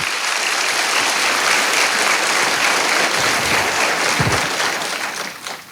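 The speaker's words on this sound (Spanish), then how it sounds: "Denle un fuerte aplauso al Señor por eso." A church congregation applauds loudly and steadily for several seconds, a dense wash of clapping that stays strong and tapers slightly at the end.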